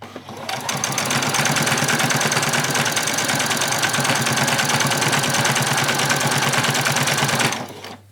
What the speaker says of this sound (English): So I'm just going to put in the very last row of stitches coming down.